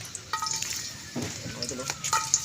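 Garlic frying in a pan at a fiesta cook-up, a close sizzling hiss with stirring clatter, a voice talking briefly partway through.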